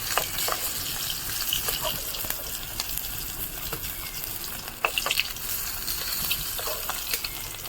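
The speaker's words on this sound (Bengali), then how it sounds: "মাছগুলো একদম লাল লাল করে ভেজে নিয়েছি, এবার তুলে নেব।" Pieces of katla fish frying in oil make a constant close sizzle and hiss, with scattered pops and sharp spatters breaking through the steady crackle.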